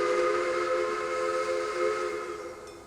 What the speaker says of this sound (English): some of these whistles depend on the different locomotive